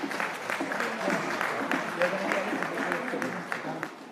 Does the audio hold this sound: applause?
yes